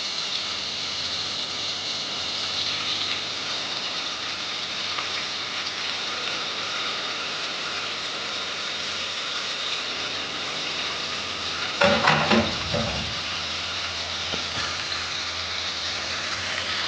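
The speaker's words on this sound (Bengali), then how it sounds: "একে শাসলিকগুলো গরম তেলে দিয়ে দিব।" Chicken shashlik sizzles in hot soybean oil, a steady hissing crackle like rain, with a brief louder clatter and spatter partway through.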